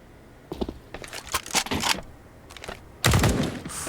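Rapid bursts of rifle fire crackle in a CS:GO match on the Vertigo map, several clustered volleys with short pauses and a loud final burst near the end.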